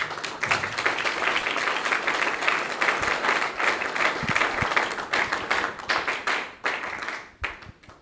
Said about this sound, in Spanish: Fuertes aplausos, por favor, comencemos.